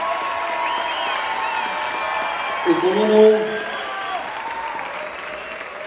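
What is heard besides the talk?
audience applause for dance groups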